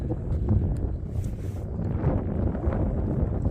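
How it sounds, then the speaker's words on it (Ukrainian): Strong wind gusting across open lake ice during winter pike fishing, buffeting the microphone in a loud, continuous rumbling roar that surges and eases without a break. "18 метрів вітер в спину"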